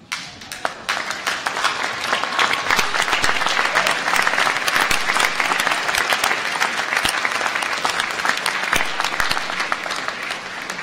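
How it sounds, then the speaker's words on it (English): Loud, sustained applause from a large audience at a university graduation ceremony, dense clapping continuing steadily without pause. "I think you should stand up and applaud them fulsomely"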